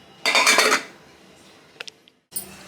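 A metal kadai clanks as it is set down on the stove for cooking mint rice, giving one loud short rattle followed by a few faint clinks and a brief scrape.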